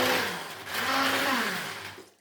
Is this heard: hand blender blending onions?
yes